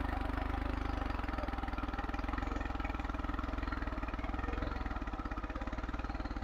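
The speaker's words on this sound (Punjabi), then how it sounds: "ਵੇਖ ਸਕਦੇ ਹਾਂ ਆਪਾਂ ਟਰੈਕਟਰ ਕਿੱਦਾਂ ਦਾ ਖੇਤ ਦੇ ਵਿੱਚ ਚੱਲ ਰਿਹਾ ਵਾ" A New Holland 3630 tractor with a modified diesel engine chugs steadily in a field, a loud, close, rhythmic diesel thrum running throughout without talk.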